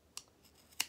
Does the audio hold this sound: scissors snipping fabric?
yes